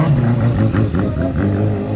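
A Fan 600R motorcycle with a Twister-type engine revs hard nearby, its rough, pulsing roar rising and falling unevenly, with no voices.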